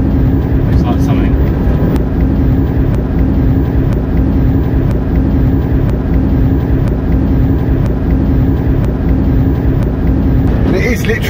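A Reliant Regal converted to run on an electric milk float motor and battery drives along with a steady, loud motor whine and road rumble, constant throughout, with people talking over it.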